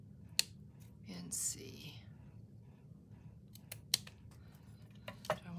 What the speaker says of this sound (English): let's cut this guy